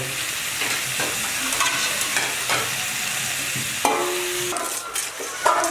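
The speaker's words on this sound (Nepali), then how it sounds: "घोगीको भुटभाट फ्राई घोगी फ्राई हुँदैछ" Ghogi snails fry with tomato in a pan, a loud continuous sizzle with stirring scrapes and occasional clinks of a utensil against the pan.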